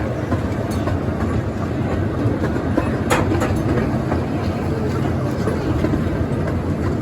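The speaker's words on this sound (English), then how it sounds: "This is the end of the train ride." A heritage-village train in Upper Canada Village rumbles along steadily, a loud continuous rolling roar with occasional metallic clicks and squeals from the wheels on the track.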